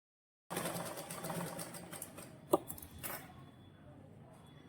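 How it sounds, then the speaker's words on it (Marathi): Sewing machine stitching a princess line collar blouse, a fast rattling run of needle strokes for a few seconds with a sharp click midway, then stopping into quiet room tone. "आता मी ह्याला सगळ्या बाजूनी स्टिच करून घेते"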